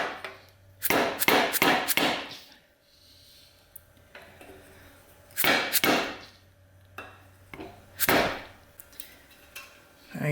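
Sharp hammer blows drive a seal into a 4L80E transmission on the bench, given in quick clusters of three or four loud metallic strikes separated by quiet pauses, close and with no talking.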